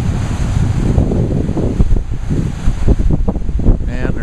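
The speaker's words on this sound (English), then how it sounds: "The waves coming up over these rocks, which it usually doesn't do." Ocean waves at extraordinarily high tide surging up and breaking over rocks during a snowy blizzard, a loud continuous roar of surf with heavy wind buffeting the microphone and repeated crashing bursts.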